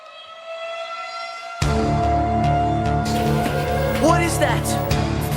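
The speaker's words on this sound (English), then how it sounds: "The tornado siren sound, and it's just straight up terrifying." Tornado warning siren wailing during severe storms, a sustained rising tone that jumps louder partway through and keeps droning, with a person talking over it in the later seconds.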